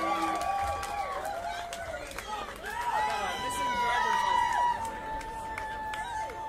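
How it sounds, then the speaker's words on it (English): A crowd at a live country band show applauding and cheering, with whoops and shouts rising over continuous clapping, loud and lively. "Give them a big round of applause."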